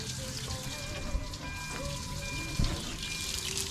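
A water hose flushes mud off the exhaust under a 4x4 during chassis rustproofing, making a steady close spray hiss with patters of dripping and splashing water and a couple of brief knocks.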